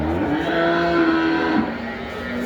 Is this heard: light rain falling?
no